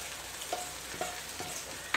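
Fish being stir-fried with rice in a hot pan for restaurant-style fish fried rice, a steady sizzle with a few brief metallic scrapes of the spatula stirring at a regular pace.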